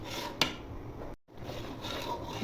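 Homemade tomato sauce is stirred gently in a pot over low heat, giving a soft, close scraping rub with one sharp knock near the start and a brief pause midway.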